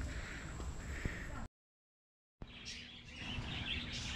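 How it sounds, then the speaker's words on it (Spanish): Small birds chirp faintly in the distance at the Zoo Ave animal rescue center, against a quiet outdoor background, with a short silent gap partway through. "aquí les dejo el sonido de estos animalitos, estos pajaritos."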